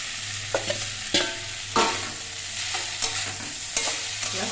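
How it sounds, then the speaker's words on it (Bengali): Potatoes and eggplant with drumstick flowers are stirred while frying in a pan, giving a steady soft sizzle broken by repeated scraping clinks of the spoon, close up with no voices. "সব কিছু দিয়ে নেড়ে কেড়ে মিশিয়ে আরও কিছুক্ষণ ভেজে নেব"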